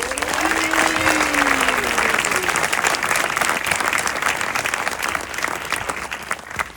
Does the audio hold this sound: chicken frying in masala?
no